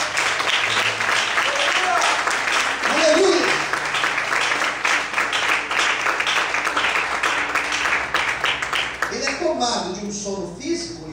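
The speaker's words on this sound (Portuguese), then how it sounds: "Quantos podem aplaudir a Deus nessa noite?" A church congregation applauds during an evening service, with dense, sustained clapping filling the room for about nine seconds before it fades and a voice speaks.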